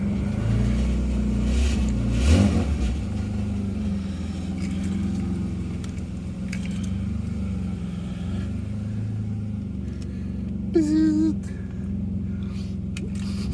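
An older car with a stuck exhaust valve and throttle problems runs with a low, rumbling engine drone that swells briefly as it pulls away, heard from inside with brief talk over it.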